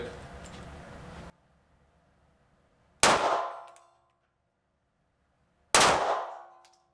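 Two loud, sharp 9 mm pistol shots fired one-handed at a steel target, each with a ringing metallic clang and a fading tail, spaced about three seconds apart after a short stretch of background noise.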